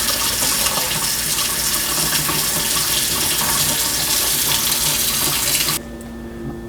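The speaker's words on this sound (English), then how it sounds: "All we need to do now is run the sink for a little bit and then check for leaks." Water runs steadily from a kitchen sink faucet, a loud continuous broadband rush that cuts off abruptly near the end, leaving a quieter hum.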